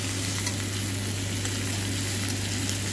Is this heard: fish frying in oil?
yes